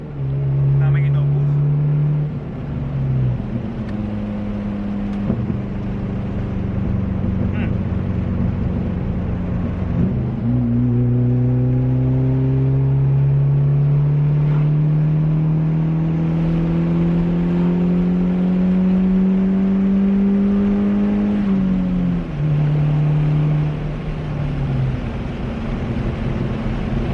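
A turbocharged Honda D15b engine in a car with an eBay turbo kit and air conditioning, failing to build boost, droning and rising in pitch through long pulls with gear changes between, loud and close, with a voice talking over it.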